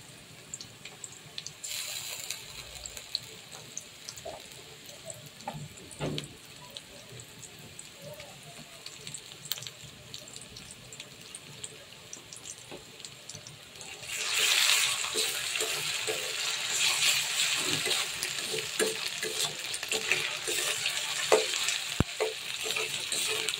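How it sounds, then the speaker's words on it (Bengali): Ginger-garlic paste dropped into frying chicken liver, starting as a quiet sizzle and stirring, then swelling into a louder, steady hiss of frying partway through. "তো আমি এখন আদা বাটা রসুন বাটা দিয়ে দেবো"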